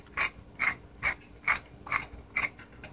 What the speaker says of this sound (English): you don't have a dish without some freshly ground black pepper